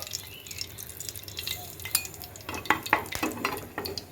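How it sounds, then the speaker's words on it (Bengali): Whole cumin and whole garam masala crackle and sizzle in hot mustard-oil-style tempering after fried parshe fish, a steady hiss with sharp spattering pops and a few utensil clinks nearby. "এবার আমি এতে ফোড়ন দিয়ে দেব। ফোড়নে দিচ্ছি গোটা জিরে, গোটা গরম মশলা"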